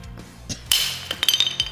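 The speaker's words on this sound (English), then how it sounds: "let's try hitting it with the hammer" A hammer strikes a mitten frozen solid in liquid nitrogen, producing a sharp, glassy crack followed by a scatter of bright clinking and tinkling fragments, loud and close, with no speech.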